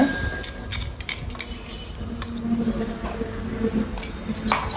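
Leftover chana dal pieces in a mango chutney being crushed with a utensil, irregular clinks and scraping taps against a vessel, close by, with faint talk underneath.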